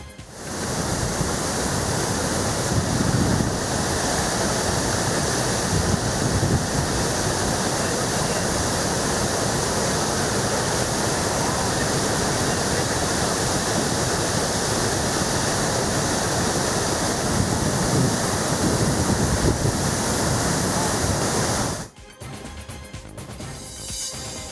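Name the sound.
water released from KRS dam rushing into Kaveri river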